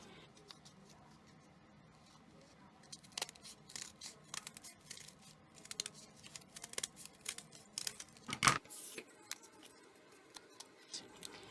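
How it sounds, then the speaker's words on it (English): Scissors snipping through sheet music paper to cut out stacked leaf shapes, a quiet run of small crisp cuts and paper rustles, close up, with one louder crinkle near the end. "you're going to cut these out again so that you have the same shape"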